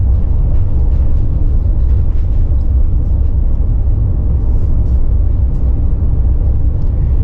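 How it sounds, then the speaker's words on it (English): A 2024 Ram ProMaster 3500 high-roof cargo van on 16-inch wheels with fat tires rolls down a bumpy road, a loud continuous low road rumble and cabin drone filling the whole stretch without letup. "it's a bit bouncy going down the road as you would expect from a big cargo van"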